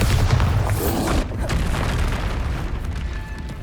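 Bombarda spell explosion in Hogwarts Legacy: a heavy, close boom with deep rumble that rolls on for a couple of seconds and slowly decays, alone without speech.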